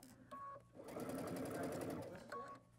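A sewing machine stitches in a rapid, even, close-up whir that runs for about a second and a half, with a person's voice heard around it.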